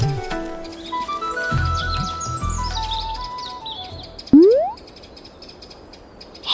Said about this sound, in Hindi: कई बेचारे पंछी फंसे हुए थे